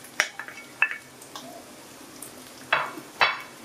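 Ginger and garlic tipped into onions frying in a pan for Lahori mutton keema, a few sharp clattering scrapes and sizzling bursts with quiet gaps between them.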